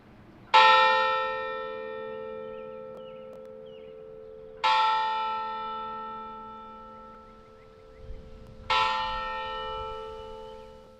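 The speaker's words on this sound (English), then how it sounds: "the bell was rung 88 times in honor of the Pope's long life" Church bell tolling in honor of the Pope's long life, rung 88 times in all. Three loud, ringing strikes come at even intervals, each leaving a long, shimmering decay that fades before the next toll. Nobody speaks.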